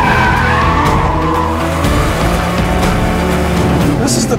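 A BMW M3 Competition drifts with loud, sustained tire squeal over a revving engine, the screech wavering continuously close up for the whole stretch.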